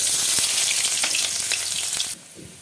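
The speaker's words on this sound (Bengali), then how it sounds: "দেবো একটা তেজপাতা, দেবো কেটে রাখা পেঁয়াজ," Chopped onions and a bay leaf frying in oil, giving a loud, close, continuous sizzle with light crackling that suddenly drops to a much quieter hiss near the end.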